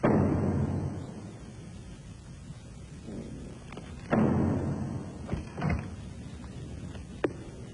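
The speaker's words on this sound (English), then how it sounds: "All of a sudden, there was the loudest knock on the door." A loud knock on a door in a children's TV cartoon: a few heavy, sharp thuds spaced apart over a steady music bed.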